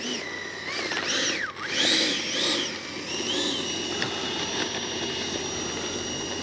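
Freewing 90mm 6S F-4 Phantom II RC jet with its ducted fan whining loudly up close, the pitch swooping up and down before settling into a steady high drone.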